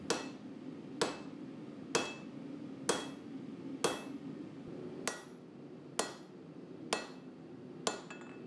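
A hammer forges a kaleidoscope Damascus steel chef's knife blade, striking nine evenly spaced, ringing blows about once per second over a low background hum, with no talking.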